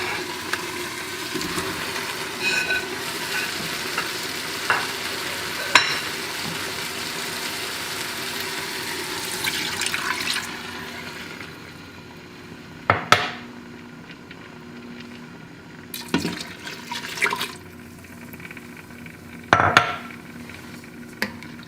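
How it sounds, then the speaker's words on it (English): Browned beef, beef stock and stout beer go into an Instant Pot for Irish stew: quiet metallic clanks, scraping and soft pouring, with a few sharper knocks of utensil against the inner pot spaced across a low steady background. "we're going to add our beef back to the Instant Pot, as well as our beef stock and our stout beer"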